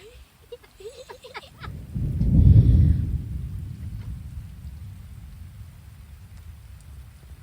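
During a thunderstorm in Laos, a deep clap of thunder rolls in and swells loudly, then slowly fades into steady rainfall. A few brief, faint sounds come just before it.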